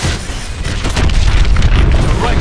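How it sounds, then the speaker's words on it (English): Missiles explode in the Call of Duty: Advanced Warfare campaign mission Throttle, a loud, rolling burst of deep booms and rumbling blasts that fills the whole moment. "Lock onto those hard points and hit it with your missiles."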